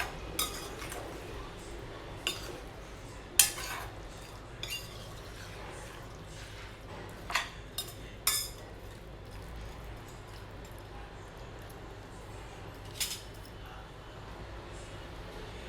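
Bitter gourd and tomato curry being stirred in a pan gives sparse metallic clinks and scrapes of a spoon against the pan at irregular intervals, fairly quiet over a soft background hiss.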